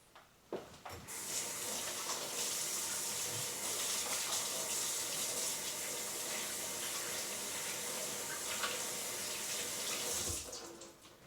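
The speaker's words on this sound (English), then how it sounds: "don't be afraid to wash your hands a lot when working with pork" Water runs steadily from a kitchen tap into a sink for about ten seconds during hand washing while pork is prepared for bacon, a constant close rushing splash with brief clatters at start and end.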